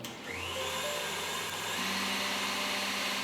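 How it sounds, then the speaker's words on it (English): A stand mixer beats meringue at medium-high speed, a loud, steady motor whine with a rising tone that runs unbroken and close throughout, with no talking. "while your mixer is at medium-high speed, you're going to beat it for about 10 to 15 minutes"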